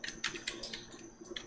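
Typing on a computer keyboard while entering a spreadsheet formula, a quick irregular run of close, crisp key clicks with short pauses between bursts.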